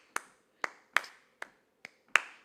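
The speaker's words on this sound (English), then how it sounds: "like if I was to clap this" Hand claps tapped out as a drum rhythm: six sharp, close claps in an uneven pattern with varying loudness, the final one among the strongest, heard alone with no talking.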